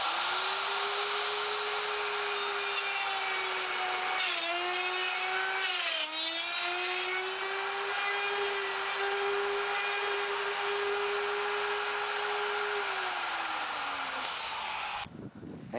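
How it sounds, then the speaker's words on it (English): A woodworking router cuts a mortise in wood guided by a jig: a loud, sustained high whine that dips briefly under load twice, then winds down near the end with a clatter. "we're going to use the router"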